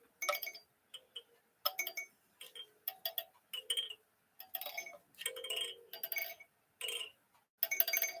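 A 1960s plastic circus elephant toy rocks back and forth, its chime giving repeated bright, tinkling rings in uneven bursts, quiet and close with short silences between.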